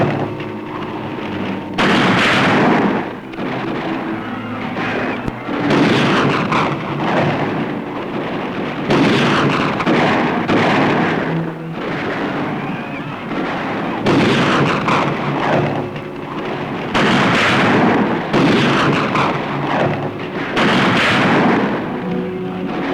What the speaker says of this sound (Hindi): गोली चला दो, अभी पता चल जाएगा।